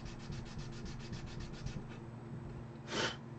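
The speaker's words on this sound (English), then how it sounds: "Shaking the camera." Rapid rhythmic rubbing and rattling handling noise for about two seconds, then quieter rustle and one brief louder scrape, close to the microphone.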